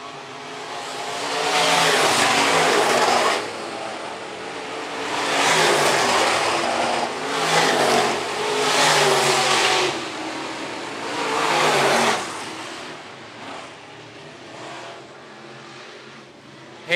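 Modified race cars circle a dirt raceway at Phillips County Raceway, engines surging loud and then fading in repeated waves as the pack passes, with revving and rising roars about every few seconds and no speech.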